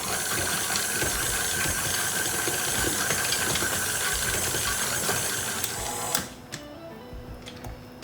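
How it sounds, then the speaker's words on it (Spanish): A stand mixer beating panettone dough studded with raisins and candied fruit, a loud steady mechanical whir with rhythmic knocking that runs continuously for about six seconds, then cuts off, leaving a quiet room with a few faint clicks. "Y ahora volvemos a batir para que se integre todo."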